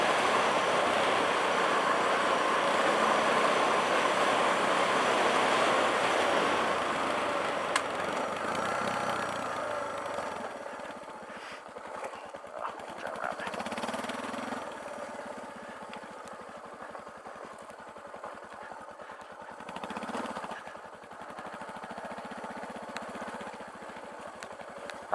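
A tuned Suzuki DR650SE dual sport motorcycle engine with Cogent Dynamics suspension runs steadily and fairly loud at first, then eases to a lower, quieter idle with brief revving swells, heard without speech.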